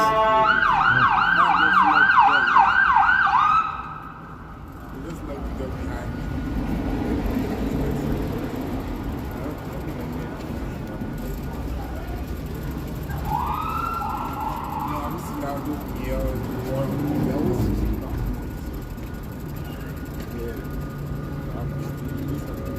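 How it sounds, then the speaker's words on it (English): Emergency vehicle sirens wail in rapid warbling cycles on a downtown Toronto street, loud at first, then fading into traffic rumble before another siren rises mid-way; people talk nearby. "Yeah, lots of sirens today."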